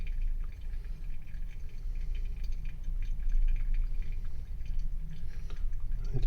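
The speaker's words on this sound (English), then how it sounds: "Just circular pour, slow pouring." A slow, circular pour of water into an Orea Glass pour-over coffee brewer: a soft, continuous close-up trickle and patter of liquid into the cone, steady and unbroken with no one talking.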